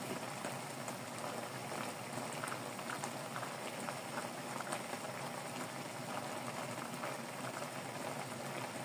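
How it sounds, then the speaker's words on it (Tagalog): Ginataang tulingan, a coconut milk broth with tuna, bubbles at a steady low boil, a continuous faint hiss and simmer with no voices. "Medyo paigalan natin yung sabaw guys bago natin ilagay yung pangalawang gata"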